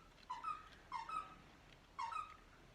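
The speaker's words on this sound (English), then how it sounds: "And Puppy's got a squeaky toy." A puppy's squeaky toy squeaks in three short, faint bursts, two close together and one after a pause, in a quiet room.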